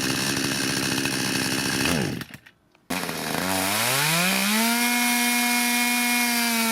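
Lidl Parkside PBKS 53A1 petrol chainsaw roaring loudly at high revs, briefly dropping off and cutting out, then restarting and climbing from a low idle back to a steady high whine.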